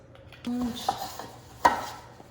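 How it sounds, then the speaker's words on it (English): Light metallic clinks and clatters of metal loaf pans being oiled close by, with a couple of sharper ringing knocks amid soft scraping. "A little bit of oil in each of the pans."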